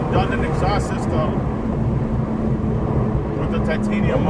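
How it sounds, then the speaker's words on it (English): A Porsche 992 GT3 fitted with a Dundon titanium exhaust drones with a low, steady engine hum, faint voices audible beneath it. "Dundon exhaust system"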